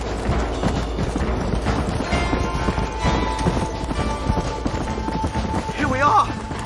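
Horse hooves gallop fast and close in the Western video game Red Dead Redemption, a steady pounding rhythm with game sounds layered on top and a man urging the horse on in brief shouts.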